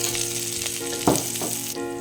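Garlic and onion frying in a hot pan for a beef and flat bean stir fry, a continuous loud sizzle with a brief burst as food is stirred, close up, no talking.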